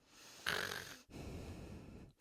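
A voice imitates heavy nighttime breathing or snoring, with two loud, raspy breaths in a row, the first sharper and noisier, the second a longer rumbling exhale, close to the microphone with no other sound.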